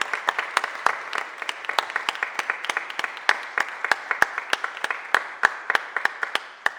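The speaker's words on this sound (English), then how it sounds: "Can we give our council members a huge round of applause" Applause at a mayor's press conference in Philadelphia, a small group of people clapping with distinct individual hand claps in a loose rhythm, fairly close and heard alone for nearly seven seconds.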